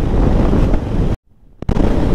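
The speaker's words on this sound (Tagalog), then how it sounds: "Yung hangin dito kakaiba" Strong wind blowing into the microphone beside the sea, a loud, heavy buffeting roar that cuts out abruptly for a moment and then returns.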